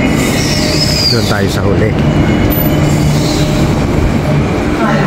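Perth to Fremantle passenger train at the station, a loud steady rumble of rolling cars with a brief wheel squeal and clatter, while a person talks nearby.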